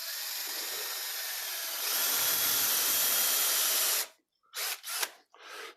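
A power drill fitted with an 8mm bit bores into wood, whining loudly and steadily for about four seconds, then stops and gives a few short bursts.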